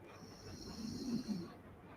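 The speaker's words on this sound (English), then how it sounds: "If you hear snoring, that's my Okami." A pet dog named Okami snores softly nearby, a low rumbling breath rising and falling over two seconds beneath a faint steady high-pitched tone in a quiet room.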